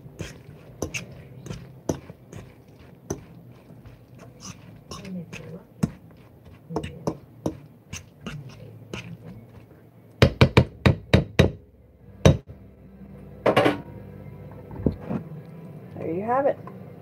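Bacalao (salt cod) and onions are stirred in a pot on a stovetop, a spoon knocking and scraping against the pot in an irregular run of sharp clacks, louder in a burst toward the end, with someone talking over it.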